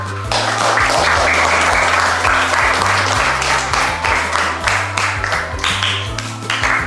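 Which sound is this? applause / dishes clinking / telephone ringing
applause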